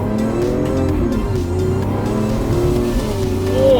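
A Lamborghini Aventador SVJ engine revs hard with rising and falling pitch sweeps and abrupt gear changes, loud and close, the raw roar filling the whole stretch.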